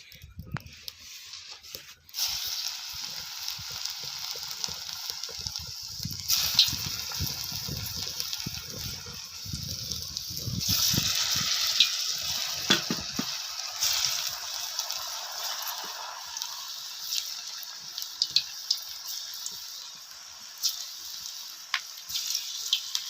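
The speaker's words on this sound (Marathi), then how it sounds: "तर आता आपण एक एक करून ह्या तळून घ्यायचं" Alu vadi, colocasia leaf rolls, dropped one by one into hot oil, set up a steady bright sizzle with bubbling crackle and occasional clatter of the pan, close and continuous after a quiet start.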